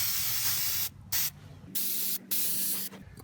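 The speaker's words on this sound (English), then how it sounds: "First I'm going to put this rubber care spray on everything that is made out of rubber here." Rubber care spray hisses onto the rubber parts of a Lexus RX 300 rear brake assembly in four sustained bursts with short pauses between them, close and loud, with no talking.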